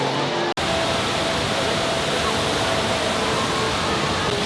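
A continuous, broad rush of falling water from the indoor waterfall at Jewel Changi Airport, Singapore, fills the space, loud and unchanging after a brief cut near the start.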